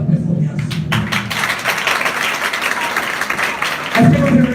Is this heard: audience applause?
yes